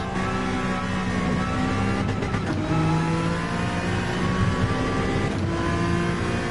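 A race car's engine revs hard under throttle in Gran Turismo, a loud continuous high-pitched drone with rising and falling tones as it accelerates through a turn, no voices.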